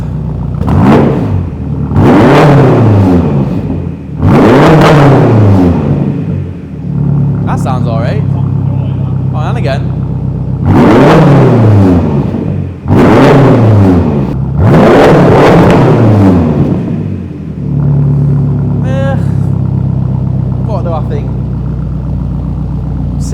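A BMW X6M engine with its muffler removed revs hard in repeated loud bursts, deep and rough, with idling rumble between them and people talking briefly over it.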